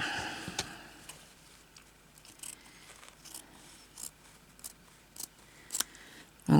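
Scissors snip through fabric scraps for a crazy patchwork bag, a string of short crisp cuts at close range, spaced irregularly and getting louder toward the end, with no talk.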